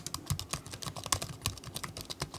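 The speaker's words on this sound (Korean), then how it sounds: "키보드는 키간 간격이 적당해서 좋았습니다. 키감도 좋았고 소음도 크지 않았습니다." Steady typing on the keyboard of a Samsung Galaxy Book S laptop gives light, fairly quiet tapping clicks in an uneven rhythm, recorded close with no talking.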